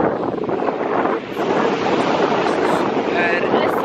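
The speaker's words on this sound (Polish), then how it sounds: "Jesteśmy nad morzem, w ogóle mamy dosłownie 5 kroków z mieszkania." Strong seaside wind buffets the microphone in a steady roar over crashing surf, loud and close throughout, with a brief lull partway through; no one speaks.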